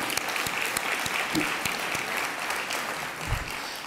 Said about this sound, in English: I want to give them a hand